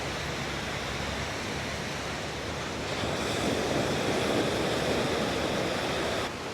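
Waves washing onto the beach at Ao Nang at night after rain, a constant broad surf roar that swells slightly louder midway, with no voices.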